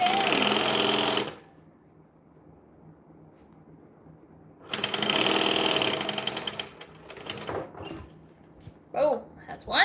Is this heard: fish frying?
no